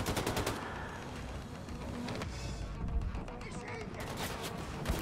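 A mounted turret in Wolfenstein 2 fires in rapid, repeated bursts of loud gunfire with a busy battle din between bursts, and someone talks over the shooting.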